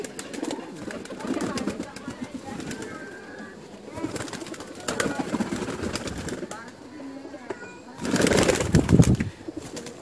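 Mixed-breed pigeons, some brought from Rajasthan and Gujarat, give soft low cooing in several bursts. The loudest swell comes near the end, with rustling and a faint voice in the background.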